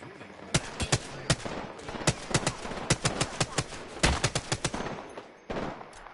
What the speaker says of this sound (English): they're shooting at me now